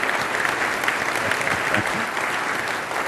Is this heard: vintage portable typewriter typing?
no